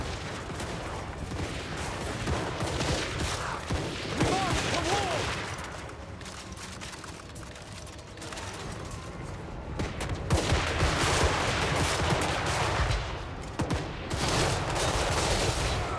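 Gunfire from handgunner units in a Total War Warhammer 3 battle, repeated crackling volleys and scattered shots that run through dense battle noise, with a loud burst near the end. A voice talks over parts of it.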